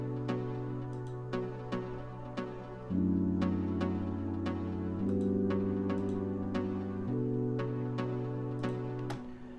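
A Nexus synth pluck plays a short repeating pattern in a deep house track, with crisp ticking percussion over sustained bass notes that step between pitches, steady and instrumental without voices.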